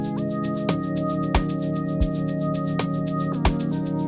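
A bright synth lead from the Minisynth Lead 80 preset in FL Studio, playing a sustained melodic line with pitch glides between notes over a steady rhythmic pulse of short bass hits, with no voice.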